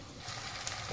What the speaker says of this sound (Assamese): আলু আৰু বিলাহী ভাজি আছোঁ